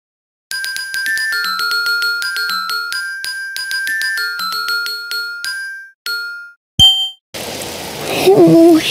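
Steady rain falls outside in a children's cartoon, a soft broadband hiss that begins after a chiming musical jingle and continues to the end, with a voice speaking over the last moments.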